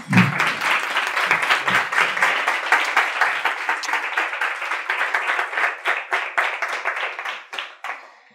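A seated audience applauds a speaker at a talk about shamanism, many hands clapping in a loud, even burst that thins out into scattered, distinct claps and trails off near the end.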